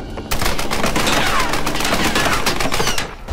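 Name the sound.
gunfire in a shootout in the video game Tomb Raider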